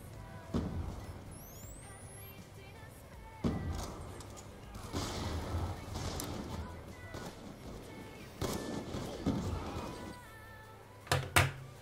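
DSR sniper rifle shots in a first-person shooter match on the Slums map, several loud single cracks spaced seconds apart, each followed by bolt and handling clatter, with quieter game noise between.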